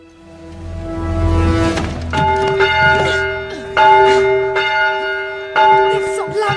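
A church bell rings loud and close, several resonant strikes with long, humming overtones that overlap and sustain between hits.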